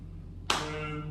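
A single sharp hand clap rings out close and clear during a children's clapping game, after a quiet moment with low background hum.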